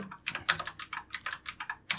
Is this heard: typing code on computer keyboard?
yes